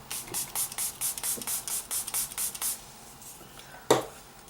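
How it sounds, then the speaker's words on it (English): About a dozen quick, hissing spritzes of makeup setting spray from a spray bottle onto a face in a steady rhythm, followed by a pause and one sharp tap. "Make It Last setting spray. I'm just going to spritz that all over my face."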